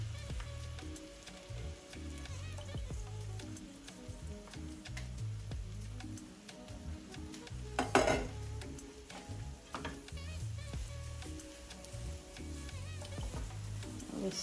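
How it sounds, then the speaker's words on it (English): Broccoli and garlic get stirred into a pan of chicken meatloaf filling, giving soft, close stirring scrapes over a faint steady sizzle, with brief bumps of the utensil against the pan. "Stir it in nicely and gentle."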